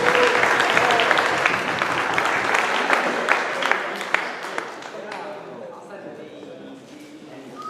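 Applause fills a room at a youth football gala, a steady wash of clapping that gradually thins and fades while a presenter speaks over it.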